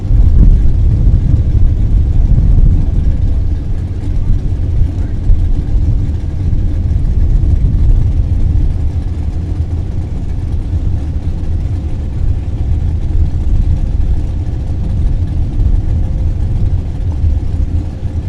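Two Top Dragster race cars idle near and loud with a steady low engine rumble while rolling into the staging beams at a drag strip, no voices over the drone.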